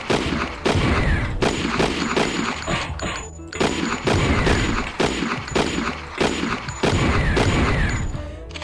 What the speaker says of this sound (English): my shooting, my aiming is affected by how much I keep shooting, I guess.